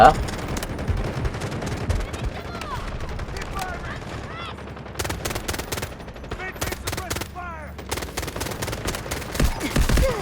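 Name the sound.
gunfire in a shooter video game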